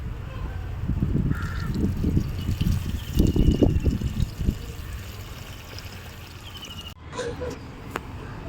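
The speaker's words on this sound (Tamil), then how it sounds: "உடனே தண்ணி ஊற்றிடணும் இது நிறையவே ஊற்றணும்" Water is poured into a pan for a chana dal curry, splashing for about four seconds before fading into quieter room noise, with talk around it.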